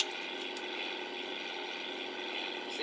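Steady, even drone of an airplane climbing away from the airport after takeoff, with a broad engine roar and propeller-like hum holding constant and close throughout.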